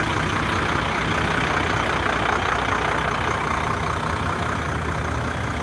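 A Bud Light truck idles close by, its heavy engine a constant loud low drone with a mid-range mechanical hum and no voices.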